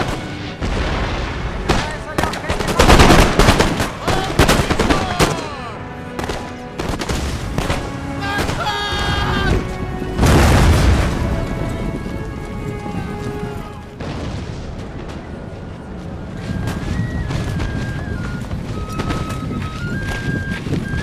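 Musket volleys and artillery fire in a Napoleon Total War battle, with loud, repeated crackling salvos and deep cannon booms rising and falling across the field beneath sustained orchestral tones.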